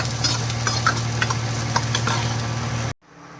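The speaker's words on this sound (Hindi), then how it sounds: "थोड़ा फ्राई कर देते हैं ब्राउन हल्का सा" Sliced onions fry and are stirred in a pan for fried chana dal, a soft sizzle with scraping stirs over a steady low hum, cutting off sharply near the end.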